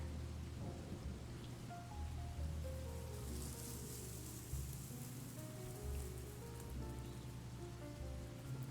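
Soft, steady rain patters with low rumbles of thunder as a quiet background for an ASMR stream, mixed under gentle music.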